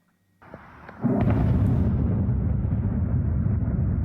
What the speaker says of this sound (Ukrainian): Ці страшні звуки російський удар по Черкасах із кандерами.